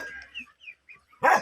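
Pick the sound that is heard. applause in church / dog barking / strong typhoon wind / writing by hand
dog barking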